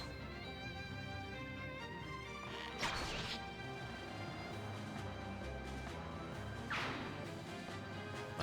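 An archer's attack in Fire Emblem: Path of Radiance lands as two sharp whack-and-swish impacts about four seconds apart, faint and set against steady game music.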